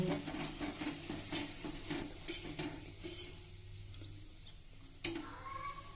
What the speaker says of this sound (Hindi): दोनों तरफ से सुनहरा होने तक इसको तल लेंगे, सेक लेंगे।